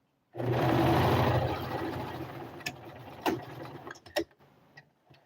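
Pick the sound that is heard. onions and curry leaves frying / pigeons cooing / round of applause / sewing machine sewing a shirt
sewing machine sewing a shirt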